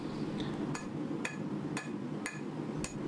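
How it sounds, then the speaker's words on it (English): Hammer blows forging the tip of a hunting knife on an anvil, five sharp ringing strikes at a steady rhythm of about one every half second over a constant roar of the forge. "Back to the anvil, forging the tip."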